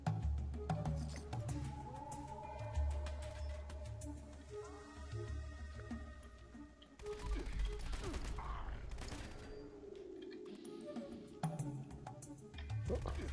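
Weapon fire in the video game Fallout 76, bursts of rapid shots and mechanical clatter over a low droning game soundscape, fairly faint overall, with someone speaking quietly at times.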